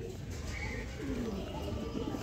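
Domestic pigeons in a home loft give soft, rolling coos close by, with low murmuring throughout and a faint background hum.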